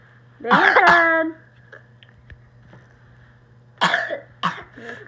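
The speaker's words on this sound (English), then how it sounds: "You're coughing." A child coughs up close: one harsh, throaty cough, then after a quiet pause a second cluster of two or three short coughs.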